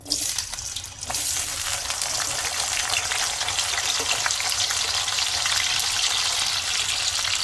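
Washed, cut potatoes dropped into hot oil in a kadai, bursting into a loud, dense, continuous hiss of frying that holds steady and close throughout, no voices.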